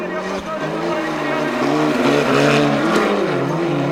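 Ford Escort race cars roar at close range into the final corner of a Race of Champions event, engines droning and rising in pitch as they accelerate, with a commentator speaking over the noise.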